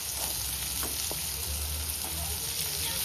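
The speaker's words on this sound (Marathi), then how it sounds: "सगळं फ्राय करून नंतर त्यात कांदा टाकायचा." Onions and Kashmiri chillies fry in hot oil for a homemade butter chicken gravy, giving a steady, loud sizzle throughout with a few faint stirring clicks.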